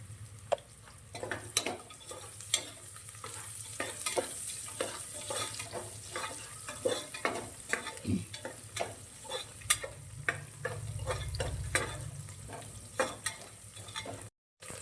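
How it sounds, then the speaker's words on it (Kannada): Onions fry in a pan, with a soft, steady sizzle close by and frequent sharp clicks and scrapes of a spoon stirring, plus a brief burst of running water partway through. "ಈರುಳ್ಳಿ ಒಂದು 5 ನಿಮಿಷ ಬೇಯಿಸ್ಕೊಳ್ಳಿ, ಗೋಲ್ಡನ್ ಬ್ರೌನ್ ಆಗುವದ್ದು"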